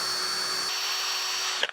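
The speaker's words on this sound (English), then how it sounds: "again we'll drill through this one, and then we're going to step it up one size." Power drill boring a pilot hole in wood with a 1/8 bit, a steady high whine that shifts pitch midway and stops abruptly, close and loud.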